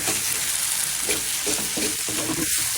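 Flat beans and potatoes fry in a pan with a steady, loud close sizzle and soft stirring scrapes throughout.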